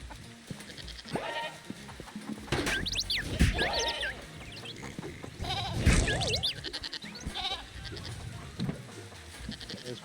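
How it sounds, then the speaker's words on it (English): Goats in the video game Moving Out 2 bleat repeatedly, their wavering cries rising and falling under steady game noise and background music, with a louder burst of bleats near the middle. "Let's get the goats in here."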